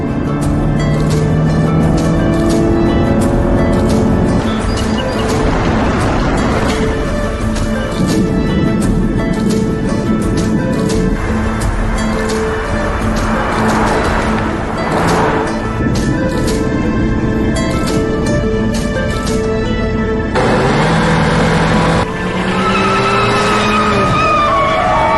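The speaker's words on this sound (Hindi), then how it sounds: "और तेज, ओजान तेज चलाओ" A car speeds through a chase scene in a Hindi-dubbed drama, its loud engine roaring continuously with tyre squeals and skids. Dramatic music plays over it, and brief voices break in near the end.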